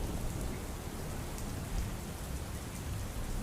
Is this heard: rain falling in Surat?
yes